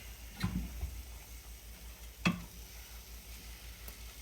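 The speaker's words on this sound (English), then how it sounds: "Now I'm going to add my rice." White rice going into a pan of sautéed onions, spinach and garlic, faint steady sizzling under a couple of close clinking stirring sounds near the start and middle, with no talk.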